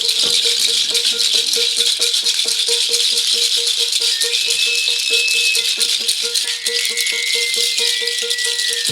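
A steady, rapid rattling of a nut knocking against the bottom of a wooden boat, continuous and close, with faint high squeaks drifting in partway through.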